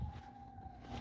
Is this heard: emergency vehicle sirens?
yes